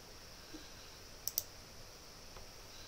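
Computer mouse gives two quick, faint clicks close together against a quiet room hum, with no one talking.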